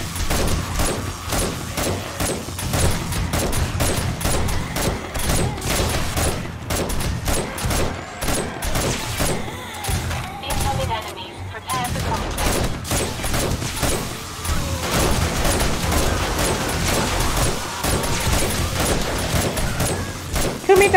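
Dense, continuous gunfire from shooting at zombies, including police zombies, in the video game 7 Days to Die, with rapid overlapping shots and crashes running loud throughout, game effects layered in and no speech.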